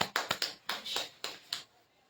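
Worship congregation clapping together during a live church prayer meeting, a handful of sharp, spaced claps in an uneven rhythm, fairly close and moderately loud, fading out after about a second and a half.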